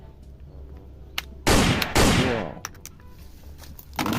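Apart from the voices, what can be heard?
toy pistol gun sound effect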